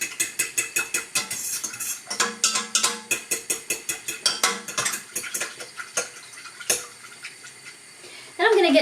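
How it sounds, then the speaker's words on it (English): A fork whisks rapidly against the side of a bowl in a steady metallic clatter of quick repeated strokes, close and fairly loud, pausing briefly near the end. "I'm just going to whisk that up with a fork"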